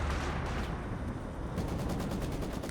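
Rapid gunfire crackles in a World War II battle in Company of Heroes 2, with a steady stream of bursts and shots layered over dense battle noise, fairly distant and continuous throughout.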